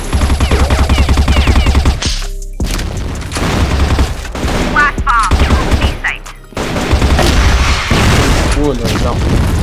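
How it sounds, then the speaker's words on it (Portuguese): Gunfire and booming blasts in the shooter game CrossFire, rapid bursts and heavy thuds with short gaps, loud and close, while players talk and shout over the action. "Granada!"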